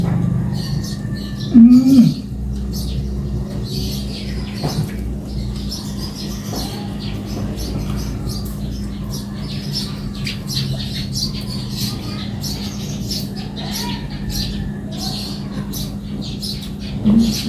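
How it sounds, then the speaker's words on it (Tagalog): A bird lets out a couple of sharp squawks, one early and one near the end, heard over a steady low hum with scattered light clicks and clatter. "Ito nga ng ibon."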